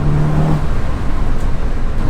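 A Seat Leon Cupra 300 drives along with a steady low engine and road roar, close and loud, holding a brief tonal whine at the start over an even rumble.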